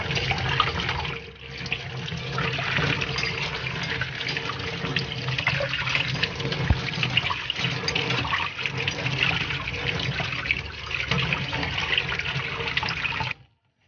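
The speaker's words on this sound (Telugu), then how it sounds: "ఎగ్స్ ని కూడా కొంచెం రన్నింగ్ వాటర్ కింద కడిగేద్దాం।" Eggs are rinsed under running tap water, a steady hissing stream that runs alone and without a break for about thirteen seconds before stopping abruptly.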